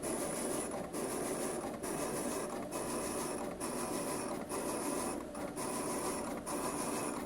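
A Summa S2 T75 vinyl cutter cuts small decals with a steady whirring, ratcheting mechanical drone, broken by regular brief dips roughly every second as the carriage changes direction.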